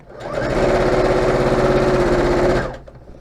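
Close, loud sewing machine stitching a seam on a doll's blouse, whirring steadily for about two seconds before stopping, with no talking.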